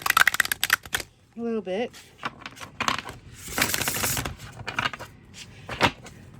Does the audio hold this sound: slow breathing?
no